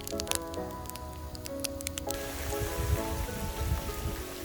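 Heavy rain pours down on an RV campground in the Arizona desert near Phoenix, a dense, steady hiss of drops that swells louder partway through over a faint tonal background.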